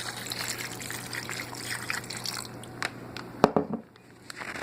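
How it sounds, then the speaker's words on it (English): Water being poured from a small pink teapot to top up a batch of jerky seasoning, a soft steady trickle close by that ends with a brief splashy gush before falling quiet. "Alright, so we just top this up with some water now."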